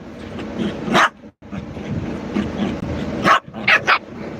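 A dog barks in a few short, loud bursts near the microphone, standing out over a steady background murmur of a voice.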